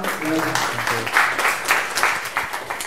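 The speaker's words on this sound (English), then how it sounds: "All right, with a round of applause," A meetup audience claps to welcome a speaker, a steady wash of applause that rises after a brief spoken phrase at the start and carries on evenly.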